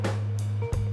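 A steady low electrical hum from an electric heater drones throughout, briefly dropping out and resuming, with faint hiss above it.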